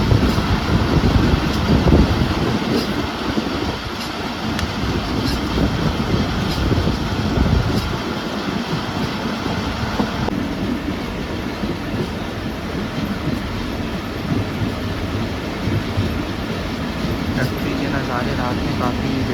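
Pak Business Express passenger train braking at night on the Karachi to Lahore run, heard from inside an economy coach: a steady, loud rolling rumble with faint rhythmic wheel clatter and a thin high brake tone, with voices at times.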